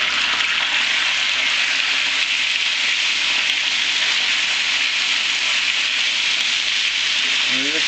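Strips of stir-fry meat browning in hot oil for Texas chili make a loud, close, continuous crackling sizzle that holds steady throughout, with a faint brief clatter near the end.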